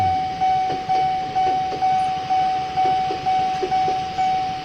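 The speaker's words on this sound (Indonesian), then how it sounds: "kereta cepat" A fast train on the Jakarta high-speed line passes close by, its wheels clacking in a quick, regular rhythm under a steady high-pitched whine.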